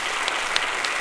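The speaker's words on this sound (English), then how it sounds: "are on their feet and applauding vigorously, as you can hear" An audience at a 1945 UN plenary session applauds vigorously, a dense, even roar of clapping heard over an old radio broadcast, with a few sharper claps standing out.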